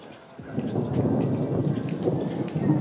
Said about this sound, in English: Don't know if you guys can hear it, but big thunder, big storm.